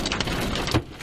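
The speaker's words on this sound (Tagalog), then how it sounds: "Bumuhos din ang malakas na ulan." Heavy rain pours during a storm with strong winds and a small tornado passing over vehicles, a dense steady wash of noise with a brief thump near the end.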